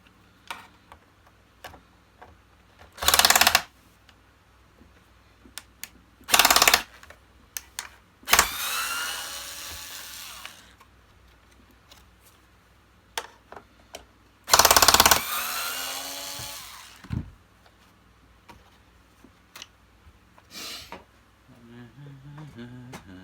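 Screws being undone on the hood of a Hoover Turbopower 2 Autosense U2464 vacuum cleaner, with several loud bursts of a buzzing powered driver separated by quiet gaps, small clicks and handling noises, close up.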